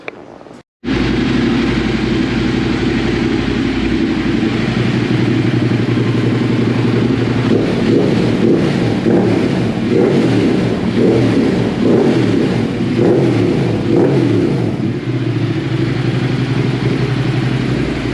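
Ducati Monster 1200S motorcycle with aftermarket mods and a Termignoni exhaust revving hard on a dyno, a loud, steady engine roar climbing through the rev range with mechanical clatter, close and alone.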